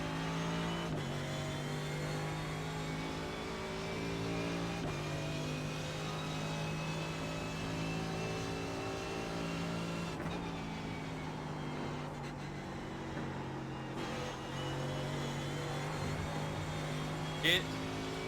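McLaren race car engine in iRacing holding a steady high-pitched drone, with gear changes every few seconds, while a voice talks over it.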